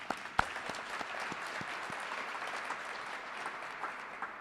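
Audience applause at a Kentucky governor's press briefing, a fairly quiet, even spread of clapping from a modest crowd with a few sharper individual claps standing out.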